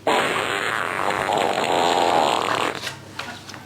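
A long, buzzy flatulence sound for a farting dog runs loud and steady for nearly three seconds, then sputters into a few shorter trailing bursts.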